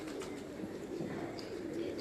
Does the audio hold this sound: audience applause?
no